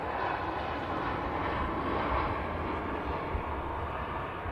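A Ryanair Boeing 737 from Dublin lands at Manchester Airport, a steady broadband jet roar that holds loud and even throughout, with no voices over it.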